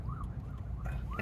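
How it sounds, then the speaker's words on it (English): A distant ambulance siren on lights-and-sirens call: a faint, rising-and-falling wail repeating a few times, thin and far off over a low, rumbling traffic background. "we've got lights and sirens, ambulance trying to move across them"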